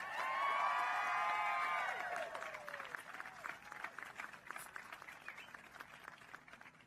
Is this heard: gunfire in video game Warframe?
no